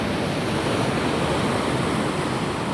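Loud, steady roar of rushing ocean water and large waves crashing against a small boat, continuous broadband wash with wind noise and no voices.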